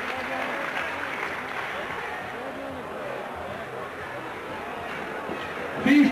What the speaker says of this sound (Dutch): Applaus voor de hele dag.